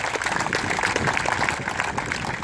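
A crowd at a racing event applauds driver Ed Sanger of the number 95 car, a steady, even patter of clapping that carries on throughout.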